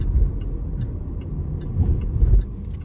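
Road traffic in Canada, a steady rumble of passing cars with engine noise swelling and fading nearby, heard alone without talk.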